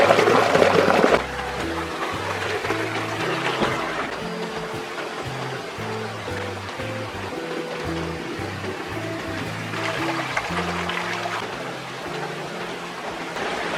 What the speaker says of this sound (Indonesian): Sungai ini atau hulu sungai